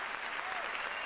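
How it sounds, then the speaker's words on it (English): A studio audience applauds a contestant on a game show, a dense, steady wash of clapping over about a second, with no pause. "let's give him a big round of applause"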